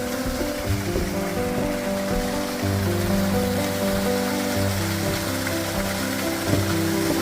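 A waterfall beside a trail in a birch forest in Inje, a steady broad rush of falling water with a constant roar throughout, no voices.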